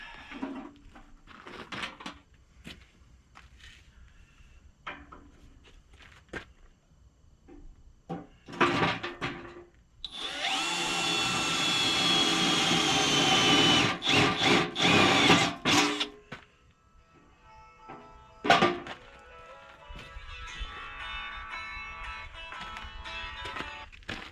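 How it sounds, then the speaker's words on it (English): Short bursts of a power drill whirring as it drills holes in the bottom of equipment boxes, with a longer steady drilling run in the middle, separated by clunks and handling noises. "now let's drill some holes in the bottom of these boxes."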